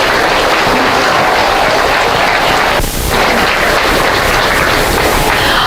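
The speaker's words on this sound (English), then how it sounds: "Let's give these guys a huge round of applause." Loud, dense audience applause fills a county fair junior show arena, continuous and steady throughout with a brief dip partway through.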